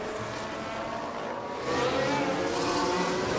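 Formula 1 racing cars overtaking in the F1 Manager 24 video game: a steady engine roar that swells louder about halfway through as the cars close in and pass, with a sustained high buzzing tone.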